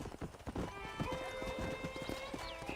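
Horse hooves clip-clop steadily in Red Dead Redemption: Undead Nightmare, a quick repeated rhythm with a whinny and faint game voices underneath.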